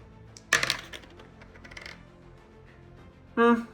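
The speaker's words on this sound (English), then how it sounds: "I need to throw a 4 on these dice here to try and kill it." Dice thrown during a Space Crusade board game, a sharp clattering burst of plastic dice tumbling on a board, then lighter rattles and a second loud clatter near the end.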